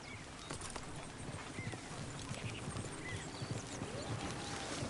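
A horse in Red Dead Redemption 2 trots in a steady clip-clop of hooves at moderate pace. The footfalls are faint and blend into an outdoor ambience, with no talking.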